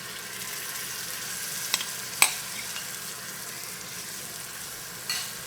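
Leftover soup stock for a miso soup base hisses and sizzles in a hot pan, a steady broad fry with a few sharp clicks and pops, close and continuous, with no voices.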